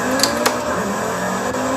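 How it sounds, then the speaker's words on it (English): A Cupra car with a 5-cylinder Audi engine runs with a loud, steady, close engine drone, sounding more like a sustained hum than a distinct rev. "it has a 5-cylinder Audi engine"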